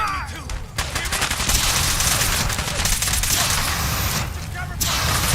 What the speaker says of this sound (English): Cover fire.